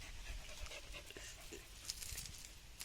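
A dog pants in quick, steady breaths close by, with faint scuffling and light pattering mixed in over a low background hum.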